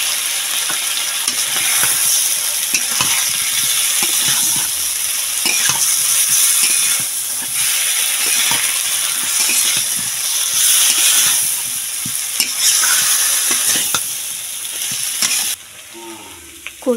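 Boiled taro stirred into spice paste frying in oil, a loud continuous close sizzle with rhythmic scraping stirs of a spoon against the pan, the sizzle suddenly dropping away near the end.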